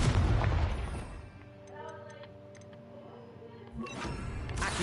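A Confringo blast spell goes off in Hogwarts Legacy, a booming fiery burst that fades into a ringing tonal tail before a second rush of noise swells at the end.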